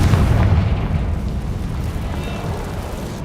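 A Confringo fire spell explosion in the Hogwarts Legacy video game, heard as a loud, deep, rumbling blast that slowly fades over a few seconds.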